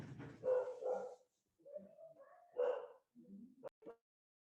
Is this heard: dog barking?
yes